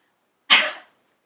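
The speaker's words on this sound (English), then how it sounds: "give yourself a little cough" A single short, breathy cough from a person, sharp at the onset and quickly fading, heard close and alone in an otherwise quiet space.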